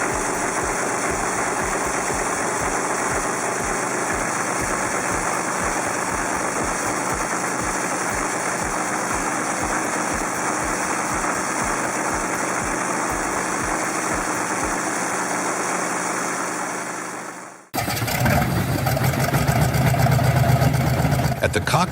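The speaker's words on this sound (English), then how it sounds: "Radial engine has 7 cylinders arranged in a circle, which gives it a unique shape and sound" A seven-cylinder marine radial engine runs steadily, its loud, even throbbing with rhythmic low pulses continuing for most of the clip before cutting abruptly to a different, busier passage where a voice appears to be heard.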